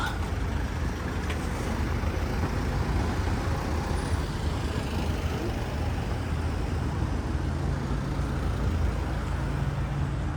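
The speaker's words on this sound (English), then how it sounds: "Nice Porsche, look at that." A Porsche rumbles past on a busy road in Bakewell, Peak District, steady engine and traffic noise throughout, fairly close, with no voices.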